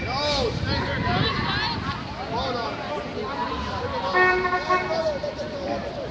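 Several car horns honk repeatedly, with a longer sustained blast toward the end, over loud crowd voices and busy street noise at a Gaza march in San Francisco.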